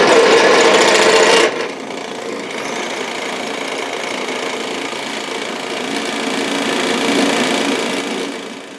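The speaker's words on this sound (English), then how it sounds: "It's vibrating so badly that I think something's wrong with the machine." Atlas horizontal milling machine running on its high speed pulley and vibrating badly, a steady loud mechanical rattle and hum that continues throughout, with a brief louder burst at the start.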